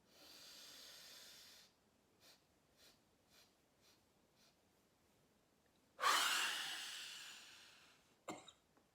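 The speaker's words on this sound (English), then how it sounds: "Relax your shoulders, then exhale it all out forward." Forceful exhalations during a Kundalini breathing exercise: a long, soft breathy exhale, then several short faint puffs, followed by one strong hissing blast of breath leaning forward and a brief sharp cough-like burst after it.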